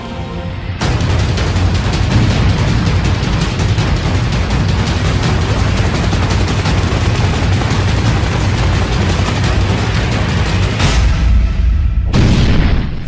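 Military test firing at the Pokhran range in Rajasthan, a loud, sustained barrage of booming blasts and rapid gunfire that runs almost without pause, briefly cuts off, then resumes.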